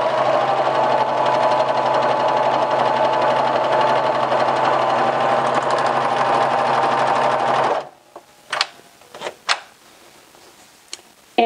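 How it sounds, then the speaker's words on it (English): A serger overlock machine sews fabric in a loud, steady, fast-whirring run lasting nearly eight seconds, then stops abruptly, leaving a few sharp clicks and snips of the thread cutter. "once you start to sew, the fabric will feed through"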